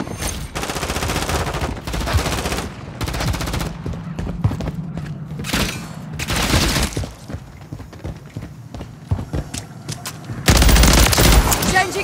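Sustained, dense automatic gunfire in the video game Call of Duty Modern Warfare, loud overlapping volleys and single cracks with a heavy burst near the end, under shouted squad callouts.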